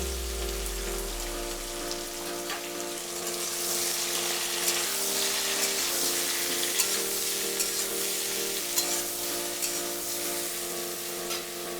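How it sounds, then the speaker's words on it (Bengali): Boiled soybean chunks fry with mushroom in oil for a paneer masala, making a dense, continuous rain-like sizzle with occasional stirring, while steady background music plays underneath. "সয়াবিনটা আমি হালকা সেদ্ধ করে রেখেছিলাম, সেটাও আমি এর সাথে দিয়ে একটু ভেজে নেব"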